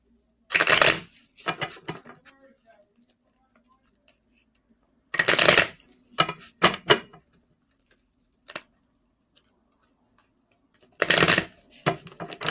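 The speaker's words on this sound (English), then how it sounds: "I want to shuffle these cards real good." Tarot cards are shuffled by hand close up in short, crisp riffling bursts separated by quiet pauses, with a few lighter taps between.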